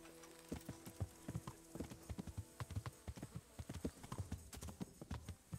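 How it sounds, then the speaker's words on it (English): Horse hooves in the medieval game Kingdom Come: Deliverance, a steady clip-clop of a walking horse on hard ground, rhythmic and moderately close with no voices. "And there's my horse."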